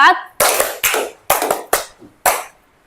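A class doing an ice-breaking clapping game claps in a counted pattern: six sharp, close claps spaced unevenly, some in quick pairs, then silence.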